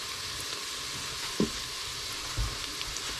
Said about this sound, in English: Saute this for about 2 minutes, and then we'll add in 4 cloves of garlic